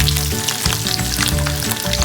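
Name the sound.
potatoes frying in oil after frying prawns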